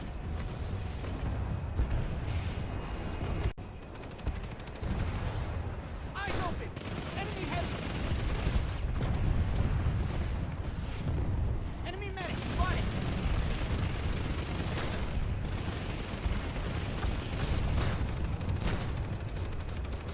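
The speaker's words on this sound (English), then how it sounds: "NC Reavers bombard the base with strafing runs of rocket fire" Rocket fire and explosions rain down on a base during a Planetside 2 battle, with a dense, continuous barrage of blasts and gunfire rumbling throughout, with some voice or commotion mixed in.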